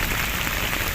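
Rain falling in a park, a dense even patter of drops on surfaces, steady and close, alone with no talk.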